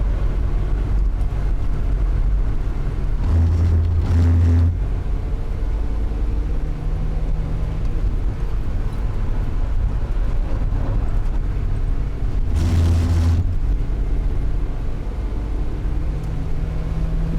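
Mazda MX-5 running on the Nürburgring Nordschleife, a steady close engine drone with shifting tone and two brief loud bursts partway through, no voices.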